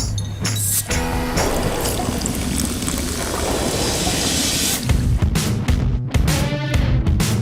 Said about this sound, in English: we poured Coke Zero using just sound